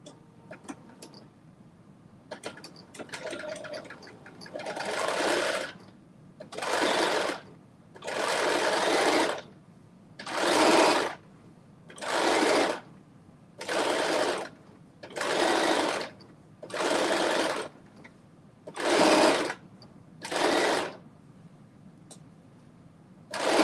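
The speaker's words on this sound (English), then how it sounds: "So we are gonna put these top stitches in." A domestic sewing machine puts top stitches into a McCall's M8208 garment in about a dozen separate bursts of rapid mechanical whirring, each a second or two long, broken by short quiet pauses.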